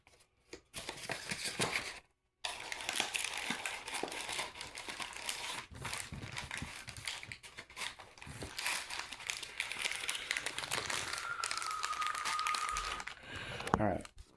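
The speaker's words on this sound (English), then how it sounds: "I folded over the top, and then I got that cardboard sleeve on there" The top of a plastic MRE flameless heater pouch for a beef taco meal is folded over by hand, producing close crinkling and crumpling bursts with brief pauses, and a voice talks quietly in the background.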